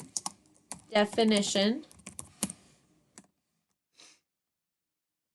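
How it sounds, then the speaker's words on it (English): A search is typed on a computer keyboard, with scattered soft key clicks before and after a short spoken phrase, then quiet. "I'm going to go to Google and I'm going to type in climate"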